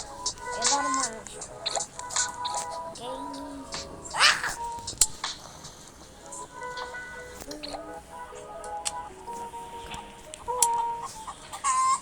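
Chickens in a Roblox video game cluck in short, repeated bursts over about twelve seconds, with other game sounds around them and a faint voice now and then.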